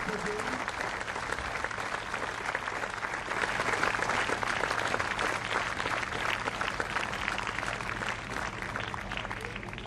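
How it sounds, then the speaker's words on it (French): An audience at a cycling podium ceremony honoring a late rider applauds loudly and steadily, a dense wash of clapping from a large crowd, with some voices faintly mixed in under it. "On applaudit à nouveau très fort"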